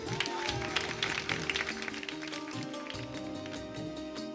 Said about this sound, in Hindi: तो उधर वाले तालियां तो बजाएं।